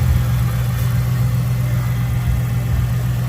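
A muscle car with a 6-speed manual and about 500 horsepower idles close by, its deep, steady rumble running unbroken and loud throughout with no other sounds.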